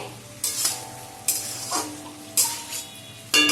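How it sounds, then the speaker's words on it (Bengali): Spice paste for a papaya-potato curry frying over a low flame, with a steady soft sizzle broken by several clear scrapes and stirs of a spoon against the pan, close up, with no talking. "একদম লো ফ্লেমে রেখে মশলাটা 1 থেকে 2 মিনিট কষিয়ে নিতে হবে।"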